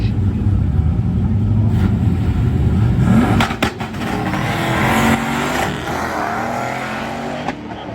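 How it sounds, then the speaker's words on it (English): A 1968 Dodge Dart and a Mustang drag racing down the track at a street-style event, a loud, sustained engine roar that surges and fades slightly as the cars pull away. "Mustang goes through 718 at 97 miles an hour, and the Dart goes 85 mile an hour"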